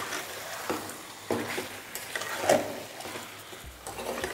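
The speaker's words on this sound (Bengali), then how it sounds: "এবার এইভাবেই আপনারা এটাকে 2 থেকে 3 মিনিট হাই ফ্লেমে কষাতে থাকুন।" Chicken liver pieces stir-fry on high flame, a soft sizzle punctuated by several spoon-against-pan stirring strokes at irregular intervals, fairly quiet and close.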